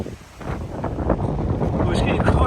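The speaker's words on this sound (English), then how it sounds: "Well, it's getting quite windy now." Wind gusting on a mountain walkway, rough buffeting roar against the microphone, steady and close, with faint speech mixed in.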